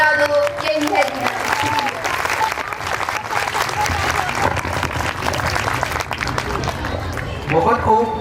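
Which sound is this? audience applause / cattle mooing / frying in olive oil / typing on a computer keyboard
audience applause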